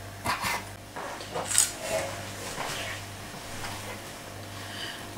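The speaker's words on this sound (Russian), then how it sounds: "Нарезаю мясо вот такими тонкими" A knife slices meat into thin pieces on a wooden chopping board, giving soft, faint, irregular cutting strokes and light taps in a quiet kitchen.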